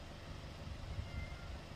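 A hungry country cat left outdoors at a house door meows faintly. The calls are low and weak against steady outdoor background noise.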